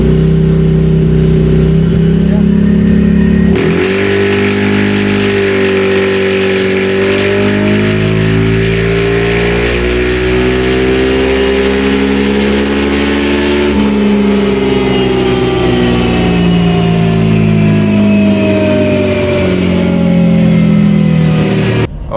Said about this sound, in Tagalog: marinig nyo yung kanyang tunog nung time na yung RPM niya ay sinasagad